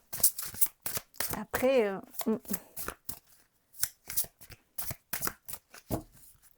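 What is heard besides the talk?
shuffling a deck of oracle cards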